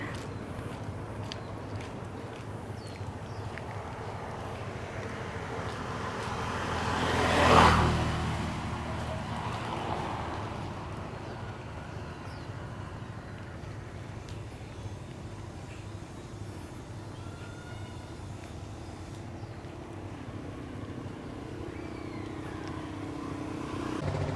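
Motorized tourist boats on a river in a Vietnamese village near Phong Nha, returning from a cave; one engine drone swells nearby and fades, with steady low motor noise throughout and no talking.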